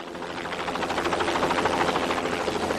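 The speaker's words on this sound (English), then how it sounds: "This private Jet Ranger helicopter, piloted by a Vietnam veteran" A private Jet Ranger helicopter flies steadily, its rotor thrum and turbine whine holding a loud, even level throughout with no voices.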